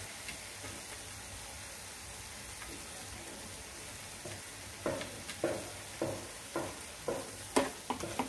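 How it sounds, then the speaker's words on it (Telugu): Ridge gourd peel chutney with coriander fries in a pan, a soft steady sizzle close by, broken in the second half by a series of sharp stirring scrapes and clacks. "ఇది కూడా 1 నిమిషం వరకు ఇలా ఫ్రై చేసేసుకుందామండి"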